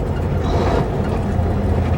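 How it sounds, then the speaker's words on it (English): RV hauler truck slowing under engine brakes, a steady loud low rumbling drone with dense broadband noise, close and continuous without pauses. "Shows you the difference what those engine brakes do."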